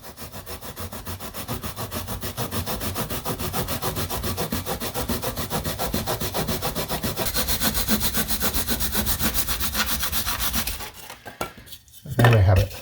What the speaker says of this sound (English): I'll come out by about 5mm, and then I'll sand it to the final shape